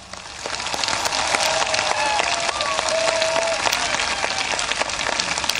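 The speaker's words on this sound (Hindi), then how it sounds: "माननीय प्रधानमंत्री जी के लिए ऐसी तालियां बजाकर उनका धन्यवाद करें" A large audience at a Dehradun International Yoga Day event applauding Prime Minister Modi, dense sustained clapping that swells in and holds loud throughout.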